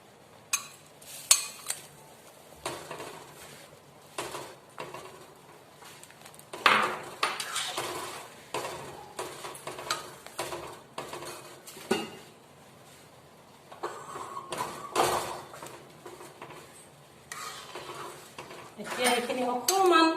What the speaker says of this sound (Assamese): ইয়াতে মই এতিয়া ভাজি ৰখা পনীৰখিনি ঢালি দিম।